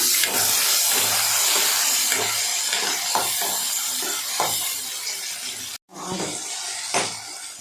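Chopped tomato sautéing in a pan for an anchovy fish curry, a steady hiss and sizzle with scraping stirs that runs throughout, broken by one short pause before resuming.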